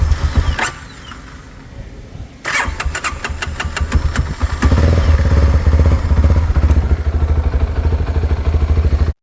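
A 2025 CFMoto 300SR motorcycle running on bad fuel cranks in short, sharp bursts, then catches and settles into a loud, close, uneven idle that pulses roughly.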